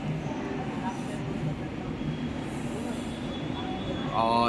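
A Dhaka metro rail train pulls into the station on a cold winter morning with a steady rumbling roar of wheels and motors. A brief squeal rises near the end.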